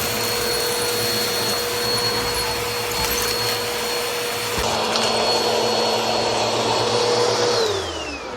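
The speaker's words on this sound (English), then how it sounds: "Looks like the vacuum is doing a lot better than it was before. It's sucking up debris a lot better than it was." A Bissell PowerForce Helix Model 2191 upright vacuum cleaner runs steadily and loudly after its suction was restored, a continuous motor whine and airflow roar that shifts slightly in pitch midway and winds down at the end.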